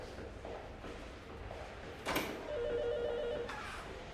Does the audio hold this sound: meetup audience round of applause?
no